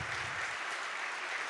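A crowd at a Pisa ceremony marking the 46th Air Brigade's eightieth anniversary gives brisk, continuous applause, many hands clapping at an even level throughout.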